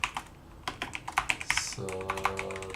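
Keys clatter on a faulty computer keyboard in quick, uneven bursts of clicks while someone enters a router password-encryption command; a brief tonal hum joins near the end.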